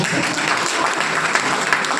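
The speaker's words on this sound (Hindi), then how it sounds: "वो जोरदार तालियां" A seminar audience gives loud applause, dense overlapping claps at a steady, even level throughout the short burst.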